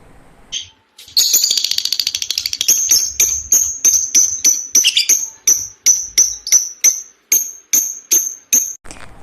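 A bird call: a quick run of sharp, high chirps repeated at an even pace, loud and close, fading into a slower series of separate chirps, with no speech.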